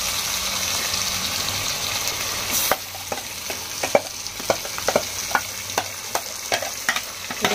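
Masala paste of tomato, coconut and coriander sizzles steadily in hot oil, with a ladle stirring and scraping the pan in regular strokes after a few seconds of plain frying hiss, close and alone.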